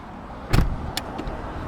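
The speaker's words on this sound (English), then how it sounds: "Auto self-closing door." A 2009 Mercedes-Benz S63 AMG door pulls itself shut automatically with one soft, close thud, followed by a couple of faint mechanical clicks.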